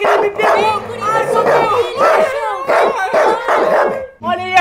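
A dog barks and howls loudly in repeated bursts, close and aggressive, with excited voices shouting over it.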